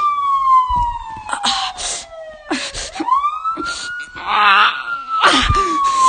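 Emergency siren wailing on an animated cartoon city battle soundtrack, long falling and rising tones sweeping repeatedly with shouts, groans and impact noises mixed over it, loud and close throughout.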